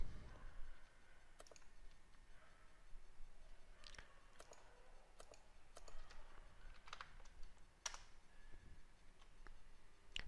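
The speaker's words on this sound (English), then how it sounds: "Click the Add to Chrome button." Sparse, faint clicks of a computer mouse and keyboard in a quiet room, isolated sharp ticks spaced irregularly over several seconds.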